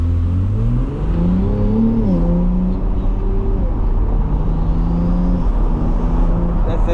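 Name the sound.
2024 Ferrari 296 GTB engine accelerating with turbo whistles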